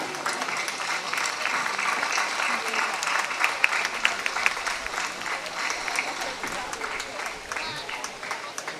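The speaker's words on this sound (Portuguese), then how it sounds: "Esses aplausos" An audience at the opening ceremony of a folklore festival in Barcelos applauds steadily for the queen of folklore, with crisp claps throughout and some crowd voices mixed in.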